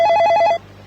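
A telephone rings with a rapid, trilling electronic bell for about half a second, then cuts off abruptly over a quiet, steady hum.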